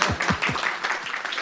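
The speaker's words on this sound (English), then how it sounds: "Round of applause." Short burst of applause from attendees at a city council comprehensive plan workshop, a few distinct claps over a brief wash of clapping that fades within a second and a half.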